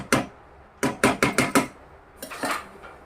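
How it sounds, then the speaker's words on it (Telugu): A metal lid set onto a pot of meal maker curry: a sharp clank, then a quick run of four rattling knocks as it settles, followed by softer scraping clatter, close and alone. "చక్కగా కలబెట్టి లిడ్ పెట్టేసి ఆయిల్ బయటకు వచ్చే వరకు కుక్ అవ్వనిద్దాం"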